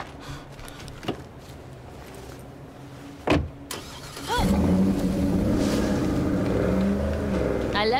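A game vehicle in State of Decay 2 starts up after a couple of door-like thumps, then its engine drones and revs steadily as it pulls away, fairly close and continuous.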